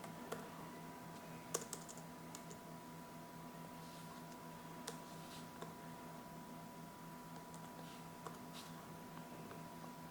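Irregular, soft key clicks come from someone typing a one-time password on a computer keyboard, quiet and close over a low steady hum.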